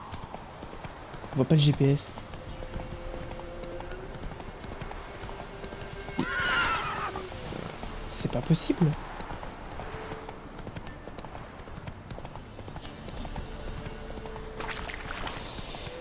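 Horse hooves clip-clopping and a couple of loud whinnies from a mount in the video game The Witcher 3: Wild Hunt, heard in short bursts over steady game ambience while someone talks throughout.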